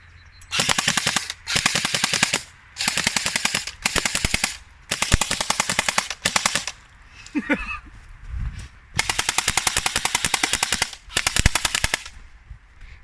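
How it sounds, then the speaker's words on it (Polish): Specna Arms airsoft rifle firing into puddles in rapid full-auto bursts, about eight close, loud rattling strings separated by short pauses, with a brief voice in one gap. "weź tak w kałuże postrzelaj. Będzie fajny efekt."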